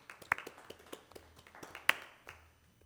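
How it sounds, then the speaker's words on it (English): A small group at a township trustees meeting claps for award winners, a sparse, quiet scatter of individual claps with two sharper, louder ones standing out. "Let's clap for the winners."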